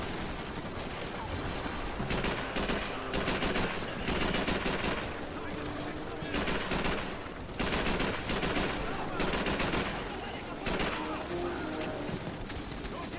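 Sustained bursts of automatic gunfire in Call of Duty 3 rattle loudly in rapid clusters separated by short pauses, dense and close throughout.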